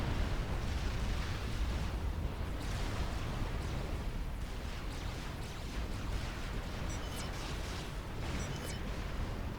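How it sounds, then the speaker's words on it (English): Mobile missile launchers bombard an enemy base in Forged Alliance Forever, making a dense, continuous rumbling roar of overlapping impacts and explosions. The bombardment stays loud and steady throughout with no pauses. "Mobile missile launchers in the middle from Pepes to bombard Zardos base."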